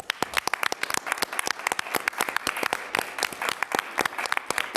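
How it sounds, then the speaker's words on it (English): Applause from attendees at a school board meeting: scattered, distinct hand claps from a modest group, crisp and fairly close, continuing unevenly throughout without talk. "we certainly want to give them a round of applause as well"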